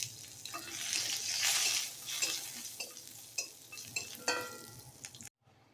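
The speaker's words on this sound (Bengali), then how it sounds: "বড়িগুলোকে লাল লাল করে ভাজতে হবে।" Lentil bori frying in a wok, a steady broadband sizzle with stirring scrapes and utensil clinks, loud and close, then cutting off abruptly near the end.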